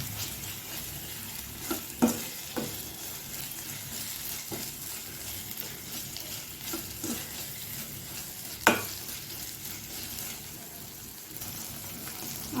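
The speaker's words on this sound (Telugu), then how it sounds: "అల్లం వెల్లుల్లి పేస్ట్ ఉల్లి పేస్ట్ వేగుతూ ఉంది." Ginger-garlic paste and onion paste fry in oil for a chicken curry, a continuous crackling sizzle like light rain, with scattered spoon scrapes and knocks against the pan and no speech.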